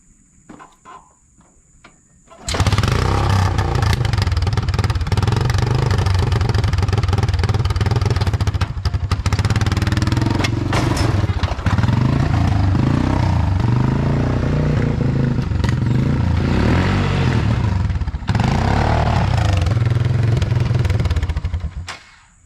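A neglected, worn-out Honda Fourtrax 300 ATV engine fires up after a quiet start and keeps running loud and close, a rough, clattering drone with uneven surges that ends abruptly.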